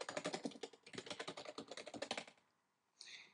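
Rapid typing on a computer keyboard, close and distinct, with a quick run of key clicks lasting over two seconds before a short pause and one more burst.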